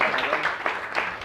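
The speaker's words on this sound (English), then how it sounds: "Give me a round of applause." Audience applause at a personal transformation class, a brief burst of clapping from a room full of people, fairly close, lasting about a second.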